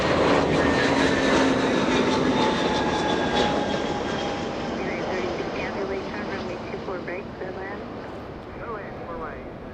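A JetBlue Airbus A321 jet arriving at Los Angeles International Airport after a flight from New York, its engine roar loud and broad at first, then slowly fading while a voice talks faintly in the background.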